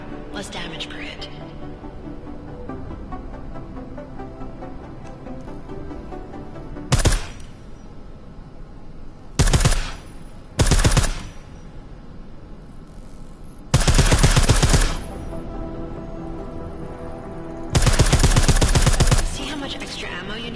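Silenced gunfire in Deus Ex: Mankind Divided on PS4: short muffled shots and brief bursts in several separate clusters, spaced over quiet background ambience, fairly close and crisp with no speech over them.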